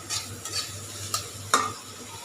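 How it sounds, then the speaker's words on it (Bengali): Shing fish frying in oil in a pan for curry, a continuous sizzle broken by a few sharp spoon-and-pan clinks and stirring scrapes, close up with no speech. "এখন এটা একটু তেলের ভিতরে অনেকক্ষণ ভাজা করব"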